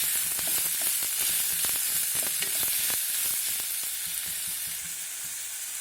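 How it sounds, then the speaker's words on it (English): Vegetables frying over a medium flame in a pan for a Spanish omelette, a loud continuous sizzle with crackles and stirring scrapes, close and with no voices. "I have to add into this, and I have to fry it for another 3 to 5 minutes"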